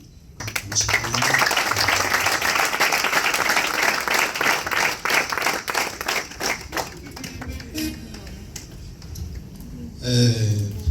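An audience at a Bible college graduation ceremony breaks into loud, sustained applause that thins out and fades, after which a voice starts speaking near the end.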